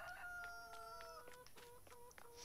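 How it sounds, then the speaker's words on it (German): A rooster crows on a farm in Farming Simulator 19, a clear multi-part cock-a-doodle-doo with a few clucks, moderately close and quiet, with no talking over it. "Dann weckt uns zunächst morgens der Hahn."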